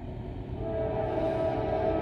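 An intermodal freight train rolls past northbound as a steady, close rumble, with a sustained tonal ring holding above the low roar for the whole stretch.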